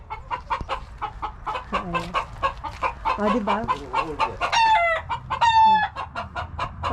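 Chickens cluck in quick, uneven bursts nearby along a bike lane near Nami Island, South Korea, with a rooster crowing twice partway through and a brief spoken word mixed in.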